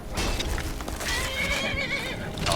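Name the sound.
horses neighing in the video game Skyrim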